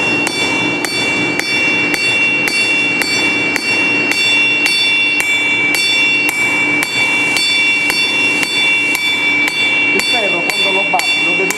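A blacksmith hammers hot iron on an anvil in a Sardinian forge, the blows ringing loud and close in a steady, fast rhythm with a bright metallic tone that carries through the whole passage.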